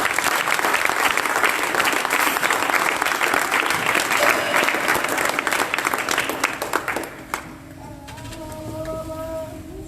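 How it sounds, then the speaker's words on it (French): A church congregation applauds loudly and steadily for several seconds before the clapping fades, leaving a faint tonal sound behind. "On acclame pour Pierre et Pierre."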